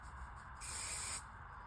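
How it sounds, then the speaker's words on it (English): Spray glue from an aerosol can, one short steady hiss lasting about half a second, close and soft against a quiet room. "I'm just going to use a little bit of spray glue to add these two together."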